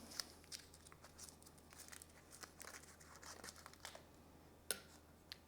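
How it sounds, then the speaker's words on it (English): Plastic wrapper peeled off a vegetable bouillon stock cube, with faint close crinkling and tearing in soft scattered bursts and one sharper crackle near the end. "Veggie stock cube, vegetable bouillon cube. Let's peel this guy and get him in there."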